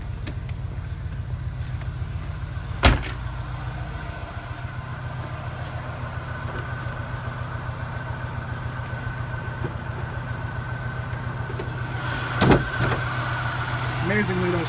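A 1991 Chevy Lumina Euro 3.1 V6 with a failing coil pack idles nearby with a low, uneven pulsing rumble, broken by a couple of sharp clicks or knocks.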